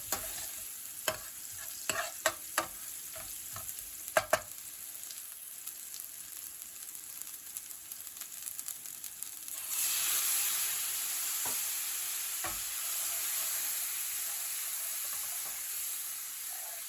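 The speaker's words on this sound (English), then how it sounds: "Add the lemon peel and stir through before doing the same with the lemon juice." A spoon stirs lemon peel and juice into pilau rice in a frying pan, with several scattered knocks and scrapes, then a steady louder sizzle rises partway through and continues to the end.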